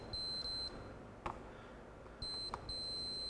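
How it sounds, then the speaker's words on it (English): A digital multimeter beeps on a continuity test as its leads touch the terminals of a switch on a Toshiba SR-F451 turntable under repair: a steady high electronic tone sounds in three separate bursts, close and clear, with faint clicks between them. "Turn our meter on, we'll hear a beep."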